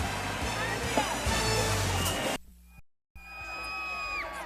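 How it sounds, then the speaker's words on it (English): A stadium crowd roars during a CFL football game between the Hamilton Tiger-Cats and Saskatchewan Roughriders at Mosaic Stadium, loud and continuous, then cuts abruptly to a brief silence. Afterward a commentator's voice is heard with a sustained electronic tone. "A happy crowd here tonight at Mosaic Stadium."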